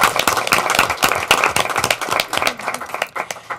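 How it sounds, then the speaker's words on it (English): An audience at a school governing board meeting applauds, dense steady clapping from many hands that tapers off slightly toward the end. "you can clap for them"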